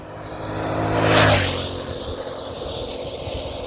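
A video game motorbike engine roars in, rising to a loud pass around the middle, then fades into a steady lower rumble.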